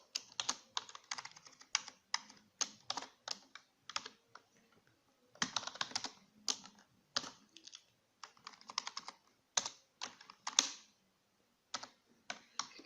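Fast bursts of clicking on a computer keyboard, close and fairly quiet, coming in uneven clusters with short pauses between, no voice over it.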